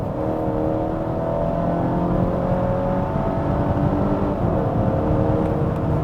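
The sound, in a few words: Volvo XC60 B5 accelerating hard from 90 km/h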